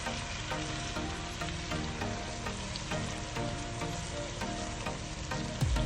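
Beef browning in batches in a pot gives off a dense, continuous, close sizzle that holds level throughout, with no talk and a faint stirring texture underneath.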